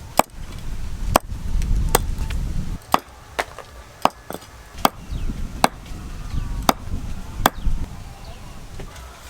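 A knife cuts the claws off whole chicken feet with about fourteen sharp, loud chops on a board, spaced unevenly over a low background murmur.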